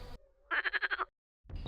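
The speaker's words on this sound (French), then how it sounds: "Ce sont les grenouilles rieuses, et ce sont des grenouilles vertes en fait, qui elles vont coasser beaucoup plus longtemps pendant la saison." Marsh frogs, also called green frogs, croak in a garden pond with one close, clear burst of about six rapid pulses, framed by other brief sounds.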